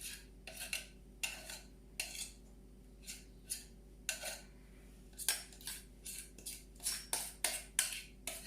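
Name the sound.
cream cheese being folded in a bowl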